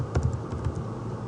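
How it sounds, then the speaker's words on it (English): Someone typing a name on a computer keyboard: a short run of light, quick clicking keystrokes, close and clear over a quiet room. "you're going to type your name"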